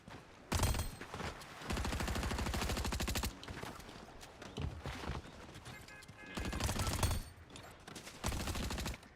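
SMG fire in a shooter video game, heard as loud rapid bursts of automatic gunfire separated by short pauses, with several sustained volleys of close, dense shots and no talking.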